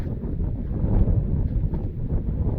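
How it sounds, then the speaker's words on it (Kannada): Strong wind buffets the microphone in a farm field with a continuous low rumble, gusting unevenly throughout. "ಗಾಳಿ, ಆಹಾ, ಗಾಳಿ ಗಾಳಿ ಗಾಳಿ ಗಾಳಿ"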